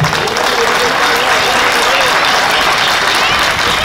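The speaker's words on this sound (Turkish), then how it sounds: "Bu güzel insanlara büyük bir alkış alalım." Crowd at an outdoor watermelon festival giving loud, continuous applause, a dense even wash of clapping throughout with a voice faintly mixed in.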